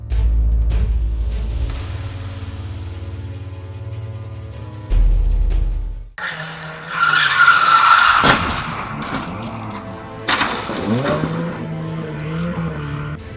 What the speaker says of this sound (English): The car veered off the roundabout and landed in the grass, likely due to sudden braking or steering.